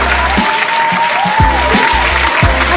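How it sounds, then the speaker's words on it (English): Steady close applause from a small group, a dense patter of claps continuing evenly throughout on a morning radio show. "we want to clap it up for y'all"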